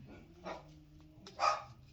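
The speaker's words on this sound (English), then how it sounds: "The dogs really are agreeing with us." Dogs barking faintly in the background, two short muffled barks about a second apart, the second one louder, with a low hum beneath.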